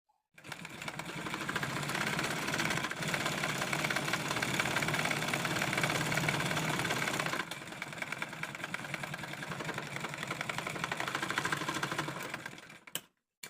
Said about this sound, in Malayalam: അപ്പോൾ ഞാൻ ഈ ഒരു ലൈനിൽ കൂടെ ഇനി സ്റ്റിച്ച് ചെയ്ത് പോവുകയാണ്